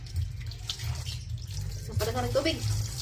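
Faint trickle and drip of flowing water under a quiet voice speaking briefly nearby.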